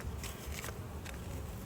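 Roughly 300 honey bees buzzing inside a sample jar during a hive inspection, a soft, continuous insect drone heard close up and quiet, with faint pattering against the jar.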